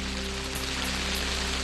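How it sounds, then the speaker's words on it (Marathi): Heavy monsoon downpour over Fugaon Pimpri village in Chandur Bazar, Amravati, a dense, steady hiss of rain that stays loud and unbroken throughout, with no voices. "अमरावतीच्या चांदूर बाजारामधील फुगाव पिंपरी गावामध्ये मुसळधार पावसाची हजेरी"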